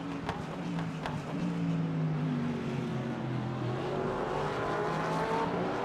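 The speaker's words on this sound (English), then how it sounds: "Listen to Marco's car come up" A powerful Mustang race car engine drones steadily in a simulated race at Barcelona, its pitch slowly shifting as it draws nearer, loud and continuous throughout.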